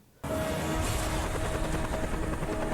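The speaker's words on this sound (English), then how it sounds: "A helicopter?" Helicopter in a science-fiction TV drama scene: a steady rotor and engine drone starts abruptly and holds at a constant, fairly loud level throughout, with no talking.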